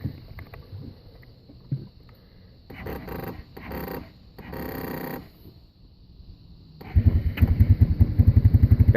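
A 2001 Arctic Cat 300 ATV with a low battery turns over in a few bursts, then catches and runs close by with a loud, steady, rapid low thumping.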